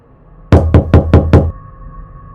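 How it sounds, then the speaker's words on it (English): Five loud, sharp knocks on a wall, evenly spaced and close, followed by a faint low hum and quiet room tone. "the knocking returned. Louder this time, more insistent."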